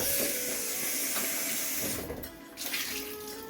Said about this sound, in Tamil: உருளைக்கிழங்கு கழுவி எடுத்தாச்சு